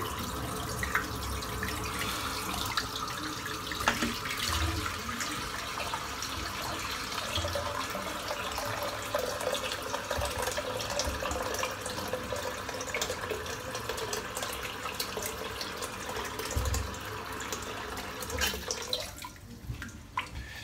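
Water runs steadily from a tap while being warmed for shaving, a constant hissing splash that continues almost unbroken, fairly close, with no talking.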